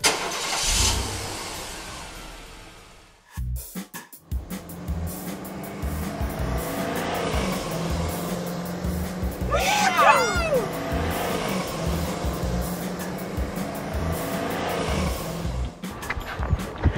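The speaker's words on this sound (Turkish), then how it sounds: "Pepe, hadi çalıştır arabayı" A toy car's engine cranks and starts, then keeps running with a steady revving hum through the scene, while voices talk over it during children's Play-Doh and dentist-set play.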